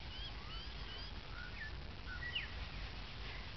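Scattered birds chirp faintly at a large park lake with a small island where ducks live, brief calls over a quiet, steady outdoor background with no voices.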